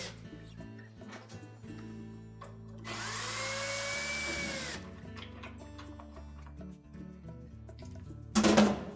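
A power driver whirs for about two seconds, its pitch bending as it backs the screws out of the plastic spacers opposite the hinge on a Whirlpool washer door. The sound is close and steady, with brief clicks of handling before and after.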